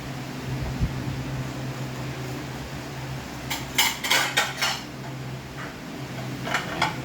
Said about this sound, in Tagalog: mag-ready ako ng mga pinggan namin